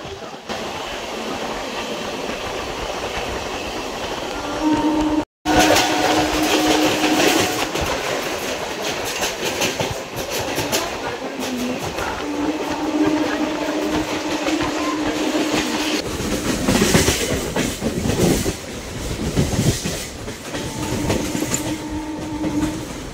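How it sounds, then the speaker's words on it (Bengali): Sealdah–BBD Bag local train running from Park Circus toward Ballygunge station in Kolkata, a steady loud rumble with wheel clatter and rattling carriages throughout, briefly cut near the start. "ট্রেনটি বালিগঞ্জ স্টেশন ঢুকছে।"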